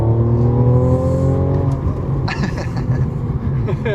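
A turbocharged Mercedes C43 accelerates with a loud rising engine drone that drops as it shifts, followed by a rougher rumble with pops, heard from nearby on a London street.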